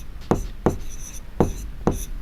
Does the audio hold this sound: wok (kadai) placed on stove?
no